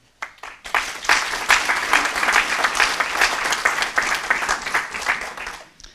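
An audience at a town-hall event with a congressman breaks into applause, steady crowd clapping that swells quickly and holds for about five seconds before fading.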